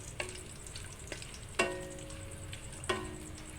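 Ginger toasting in a pan for a crab stick udon soup gives a low, continuous frying sizzle, with a few sharp metallic taps and scrapes of a utensil against the pan, close and quiet, with no talking.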